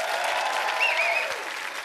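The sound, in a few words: studio audience applause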